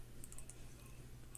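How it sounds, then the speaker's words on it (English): Quiet, close keyboard clicks come in a short burst of keystrokes followed by a single later tap, set against a low steady hum. "I'm gonna type live."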